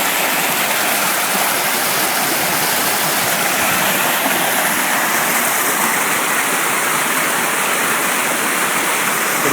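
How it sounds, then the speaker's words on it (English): A mountain stream pours through channels it has cut into the rock, giving a loud, steady rushing wash of water heard up close, continuous and even with no voices. "The stream is cut all these channels through the rocks."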